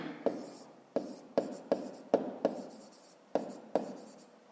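Pen or chalk taps and scratches while a math solution is written out by hand, coming as about eight sharp, close strokes in an uneven rhythm with short scraping tails.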